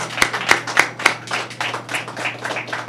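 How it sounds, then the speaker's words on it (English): Audience applause for organization representatives called forward at a Caribbean Heritage Month celebration: a few sharp, loud claps near the start, then a steady wash of clapping from a small crowd for about three seconds. "Give them a round of applause"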